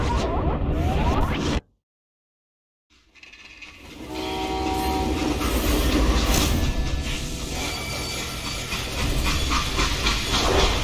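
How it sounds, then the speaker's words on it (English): A freight train in the Call of Juarez: Gunslinger video game rumbles loudly along the tracks, cutting out briefly to silence before the heavy rolling clatter and a horn-like whistle build back up. "They hopped a freight train"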